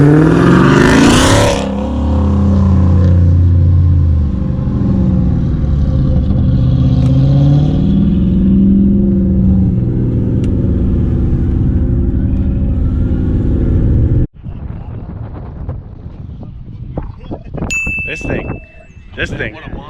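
A supercharged stock 6.4L 392 car accelerates hard, its loud engine roar rising in pitch and sustaining up close before cutting off abruptly, followed by clattering noise and excited voices.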